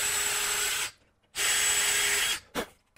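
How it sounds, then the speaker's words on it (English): Power drill boring pilot holes in plywood: two sustained high whirring runs of about a second each, separated by a short gap, followed by a brief blip of the motor, close and loud. "So I'm going to drill a pilot hole right in the center of each of these hole locations."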